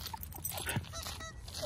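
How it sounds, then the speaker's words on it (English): Goose honking outdoors in a South Carolina neighborhood: a few short, rough honks, moderately close, mixed into a busy, noisy outdoor background. "Look at the goose!"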